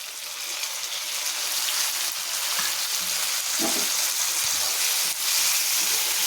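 Two medium-sized tomatoes are added to onions frying in a pan for a potato kurma, giving a steady, close hiss of sizzling oil with occasional stirring scrapes throughout.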